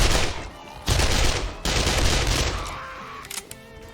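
Submachine gun fire in the 7 Days to Die video game: loud, rapid automatic bursts rattle almost continuously, with brief breaks between strings of shots and no talk over them.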